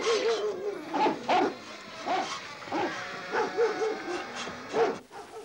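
Cartoon dogs barking and yipping in a jungle adventure, a series of sharp repeated barks with whimpers between them, fairly close and lively, with little else beneath.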